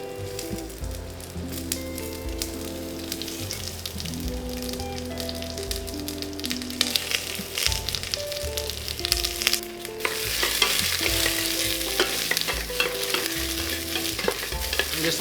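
Onions frying in a pan for Taiwanese beef noodle soup, a dense continuous sizzle that grows louder and brighter partway through, heard close with steady crackle and no voices.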